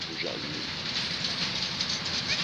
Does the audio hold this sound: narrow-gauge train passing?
yes